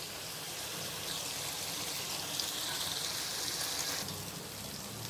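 Stuffed brinjals frying in a pan for masala gutti vankaya curry, a continuous moderate sizzle and hiss that holds steady, with a slight change near the end.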